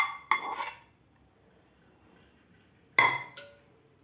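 Cooked Maggi noodles transferred into a bowl, with two sharp clinks of metal utensils against the bowl, each followed by a brief scraping clatter, separated by quiet pauses.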